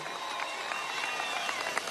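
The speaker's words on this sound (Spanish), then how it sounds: "Un aplauso para nuestra compañera Nismenia." Crowd applause at a PSUV swearing-in rally in Apure, a steady patter of many hands clapping at moderate distance without a break.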